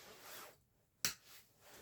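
Cutters snip through the stem of an artificial Christmas flower, a single short, sharp crisp cut heard close and quiet after a soft rustle of handling.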